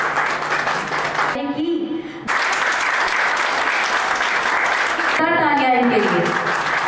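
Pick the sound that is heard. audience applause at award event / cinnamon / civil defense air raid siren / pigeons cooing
audience applause at award event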